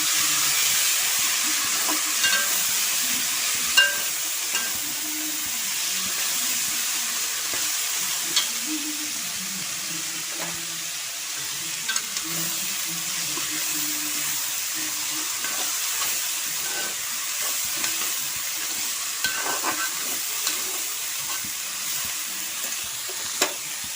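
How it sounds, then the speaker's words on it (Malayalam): Sprouted horse gram being stirred in a frying pan, a steady sizzle with a soft continuous hiss and repeated scraping stir strokes throughout, close and fairly loud with no talking. "ഇത് നല്ലപോലെ ഇളക്കി കൊടുക്കാം."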